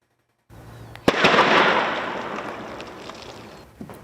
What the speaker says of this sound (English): You hear the explosions almost every day in the Rocket City, like you just heard there.